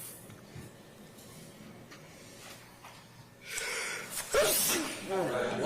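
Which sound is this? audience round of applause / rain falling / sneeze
sneeze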